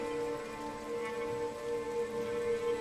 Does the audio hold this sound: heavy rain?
yes